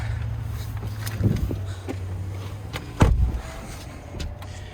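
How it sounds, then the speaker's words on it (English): A Chevrolet Silverado 1500 pickup truck rolls slowly around a parking lot with a low, steady engine rumble, a few light knocks and a louder thump partway through. "let's get inside of it, drive around the parking lot a little bit"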